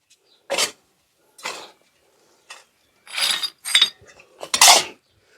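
Potting soil mixture for planting a mango tree is stirred in a container in five or six short, gritty scraping bursts separated by quiet pauses, close by.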